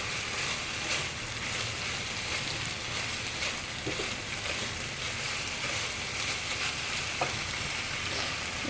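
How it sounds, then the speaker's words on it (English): Thai chicken with chilli and basil stir-fries in a pan, giving a steady close sizzle with scraping stirs and small clinks. No one speaks. "So keep on stir frying until the liquid evaporates."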